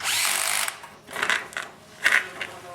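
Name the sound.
cordless drill driving bolts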